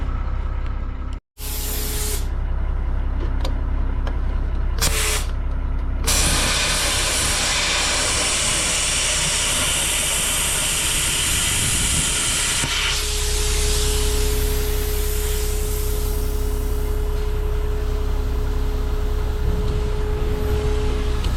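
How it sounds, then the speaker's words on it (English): A cutoff wheel grinding a relief slot into the steel of a homemade log loading trailer. It makes a loud, continuous hissing whine that runs almost throughout, broken only by a brief gap near the start. "take a cutoff wheel, run through there real quick"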